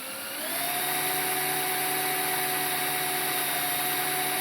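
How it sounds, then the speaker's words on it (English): A drill spins up and holds a steady, high whining hum, close and continuous with no pauses, drilling out a metal casting on a Corgi Lotus die-cast model car. "I'm just going to drill that out gently,"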